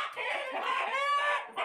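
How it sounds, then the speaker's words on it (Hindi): An aggressive, active one-and-a-half-year-old Aseel rooster lets out a loud, close, harsh throaty clucking call lasting just over a second, alone and without talk. "ये भी है दोस्तों प्योर एग्रेसिव है दोस्तों मुर्गा, बहुत एक्टिव वाला है"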